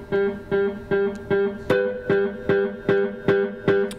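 An electric guitar note runs through a Boss delay pedal set to infinite repeats, the echo plucking again and again at a steady pulse of roughly two and a half per second, each repeat equally strong and close.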